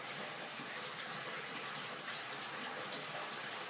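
Water gushes steadily from two hoses into a 150-gallon cichlid aquarium during a water change, a continuous broadband rush at even loudness with no talk.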